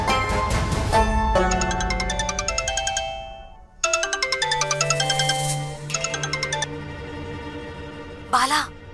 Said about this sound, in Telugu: బాలా, గీత వాళ్ళ మేనత్త మొగుడు షాప్ నుండి ఫోన్ చేస్తున్నాను